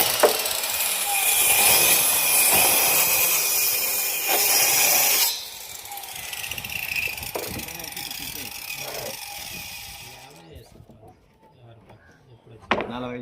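Plywood being cut in a plywood workshop, a loud, bright saw whine for about five seconds that then drops to softer scraping and rubbing work noises, with people talking in the background.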